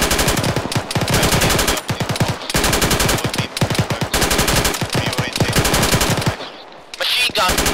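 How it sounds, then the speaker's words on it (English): Sustained rapid machine-gun fire in a video game, loud and close, rattling in long bursts with short gaps before a sudden drop-off near the end. "Machine gun on the west"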